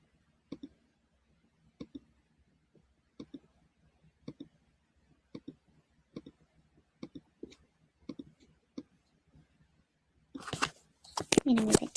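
Computer mouse clicking in a quiet room, a dozen or so sharp close clicks in an uneven rhythm, some as quick double clicks, followed by brief rustling at the end.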